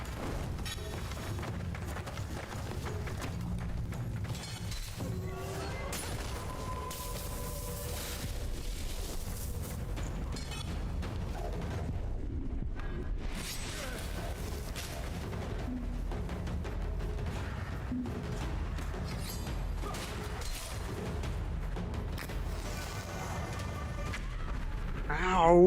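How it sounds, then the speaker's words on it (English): Fireworks bursting in the VR game Blade & Sorcery, a dense, continuous barrage of booms, crackles and bangs over steady noise, with voices mixed in. "Yes, it's a firework."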